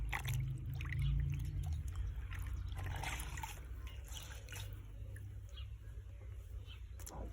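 Cold tap water runs steadily over microfibre cloths being wetted, a continuous trickling splash with faint background noise and no speech.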